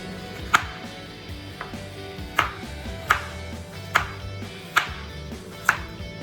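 Knife chopping carrots into small pieces on a cutting board for orange and carrot juice, six or so sharp, spaced chops with quieter background noise between them.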